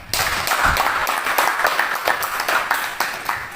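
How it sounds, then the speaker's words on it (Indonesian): Audience applause closes a teacher's presentation, a busy, uneven patter of many hands with sharp individual claps poking through, sustained at moderate loudness throughout. "tepuk tangan untuk kita semua"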